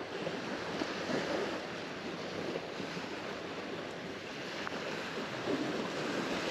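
Continuous wind buffeting the microphone on a hiking trail, a steady broadband rush with faint surf-like texture, no voices.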